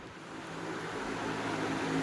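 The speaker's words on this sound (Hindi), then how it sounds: "इस कमरे में पंखा चल रहा है, इसे बंद कर देती हूँ।" A ceiling fan runs in a room of a home, giving a steady airy whoosh that holds evenly throughout with no other sounds.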